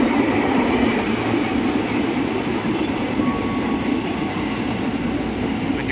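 A KRL commuter train, JR 03 106 bound for Bogor, rolls into a station in a steady, loud rumble of wheels and rail noise with a faint squeal, heard from nearby.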